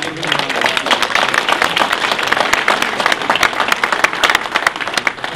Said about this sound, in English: So everybody give him a round of applause.